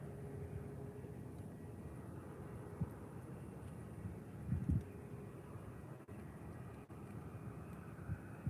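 A British Airways Airbus A320 from London Heathrow rumbles faintly at Faro Airport, a distant low drone mixed with wind noise and a few brief bumps, with no voices.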